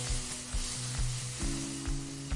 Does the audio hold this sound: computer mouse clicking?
no